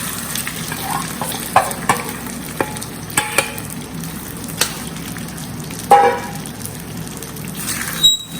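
Corn khichdi being stirred and fried in a pan over a low flame, a continuous moderate sizzle punctuated by regular spoon scrapes and knocks against the pan, close up.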